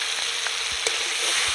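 Ginger, mustard and green chilli paste frying in a pan for a river fish curry, a short burst of loud, close sizzling with a few soft stirring knocks.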